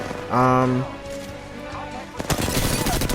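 Gunfire in the video game Apex Legends arrives as a sharp burst of rapid shots after a voice talks over a quieter stretch, ending in dense, loud crackling fire.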